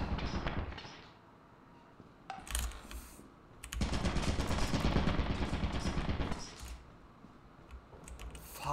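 Turrets in Lethal Company fire in rapid, dense bursts, with a long sustained volley in the middle and shorter clusters before and after, loud and close.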